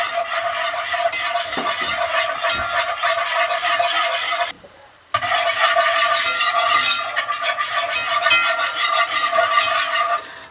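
Roux of flour and butter being whisked in a pan on the stove for copycat Panera mac and cheese, giving a steady close scraping and sizzling texture with one brief pause partway through.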